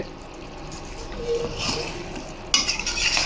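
Mutton being stirred with ghee in a pot, a soft scraping and sloshing of thick food against metal that grows busier and louder toward the end, close up with no voices.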